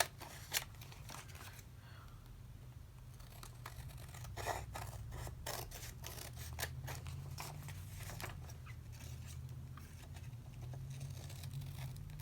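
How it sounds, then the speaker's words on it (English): Scissors snipping excess paper from an up-cycled envelope journal, a run of quick close cuts and rustles over a steady low room hum, faint overall. "Now I'm going to take my scissors and I'm going to trim off"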